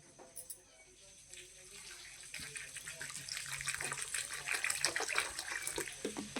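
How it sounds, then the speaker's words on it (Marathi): Water gushes from a tap as dried Bombay duck fish are set to soak, the pour building from a soft trickle to a steady, louder splashing flow over several seconds, with no talk. "आता मी ह्यांना पाण्यात भिजत घालते"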